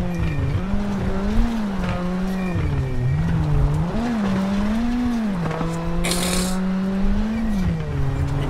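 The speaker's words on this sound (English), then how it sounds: "The car nice and composed under the handbrake as we go into another fast section here." A rally car in the WRC video game races through a forest stage in Poland, its engine note climbing and dropping with gear changes and throttle, with a short burst of gravel or tire noise midway and no talking.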